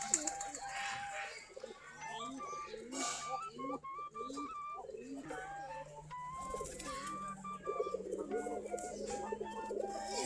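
Giribaj pigeons perched in a tree after a wheat feed coo softly and repeatedly close by, their calls overlapping with other bird sounds and a faint voice in the background.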